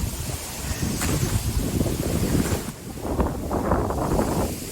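Strong wind buffets the microphone outdoors on a hillside walk among wind-shaped trees, a loud continuous roaring rush that swells and dips in gusts throughout, with no talk heard.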